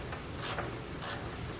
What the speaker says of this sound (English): you can use a socket like I'm using right here